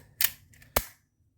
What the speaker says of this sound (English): It'll pull your zip ties tight and nip off the ends for you all in one go.